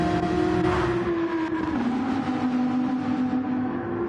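A Porsche race car on medium tyres roars through an endurance sim race, its engine droning loudly with a shifting pitch as it pushes hard, and faint tyre noise underneath.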